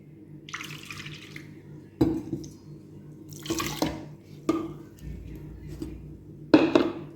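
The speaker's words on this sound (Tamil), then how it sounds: "மிக்சியில் தண்ணி கழுவிட்டு முடிச்சு" Water sloshes and splashes in bursts inside a blender jar being rinsed, several separate swishes with quiet gaps, close by and moderately loud.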